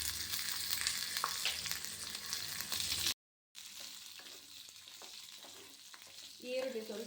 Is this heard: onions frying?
yes